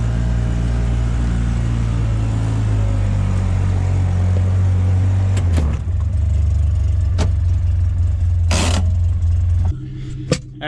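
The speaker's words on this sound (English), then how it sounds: "we'll get the Polaris loaded up" A Polaris ATV engine runs steadily with a loud, close low rumble while the machine is driven up onto a snowy trailer; the engine note shifts partway through, then drops off near the end.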